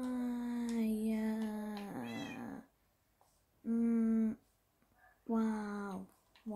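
Cats meowing in the video game Minecraft, three separate drawn-out meows with pauses between them, clear and close with a slightly bending pitch.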